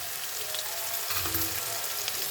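Onion, green chili and ginger-garlic paste sizzling in hot oil after cumin, a dense, steady hiss filling the whole stretch with a faint lower rumble of frying underneath.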